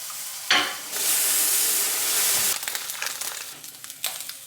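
Bacon frying in a pan at home, a loud, steady crackling sizzle with sharp spits and a couple of brief stirring bursts, tapering to lighter intermittent pops near the end.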